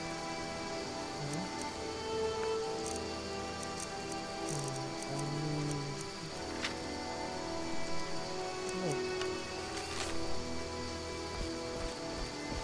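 Steady rain falls in The Witcher: Enhanced Edition, a continuous soft patter over a low ambient game bed with faint musical tones, no talking heard.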